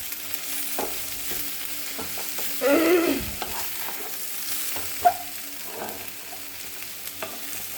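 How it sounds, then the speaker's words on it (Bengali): Onions frying with a little turmeric in a pan, a low steady sizzle with a burst of stirring and scraping near the middle and a few light clinks after. "এখন এই পেঁয়াজগুলি ভাজাতে একটু হলুদ দিয়ে একটু নেড়ে চেড়ে আমি এটা নামিয়ে নেব"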